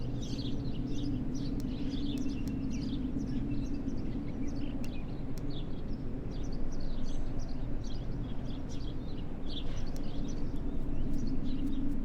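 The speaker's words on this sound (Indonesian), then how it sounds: "Oh, ini dia gagak si pembunuh." Bird chirps, tweets and calls rise intermittently over a steady low ambient drone in the video game Martha Is Dead, close and moderately loud, with no speech.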